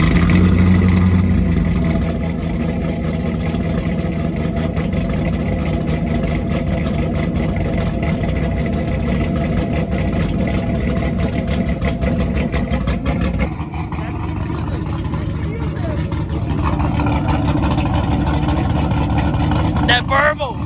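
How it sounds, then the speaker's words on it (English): A Corvette C6 Z06 engine, making 550 wheel horsepower, starts cold and settles into a loud, rumbling idle in a driveway, with a steady low drone throughout and a slight shift partway through. People talk over it. "If you don't mind, can we do a cold start"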